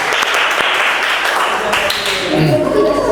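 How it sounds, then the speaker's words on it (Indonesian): A training group claps together after a classroom game, a steady loud patter of applause with voices mixed in underneath. "Tepuk tangan semuanya, ayo."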